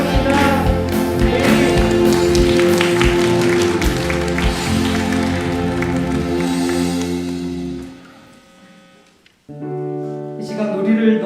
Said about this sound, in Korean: 이 계신 주님께 영광의 박수로 나아갑니다.